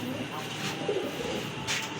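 Red Tiger Budapest pigeons give a few soft coos, low and intermittent, over a murmur of background noise with faint voices nearby.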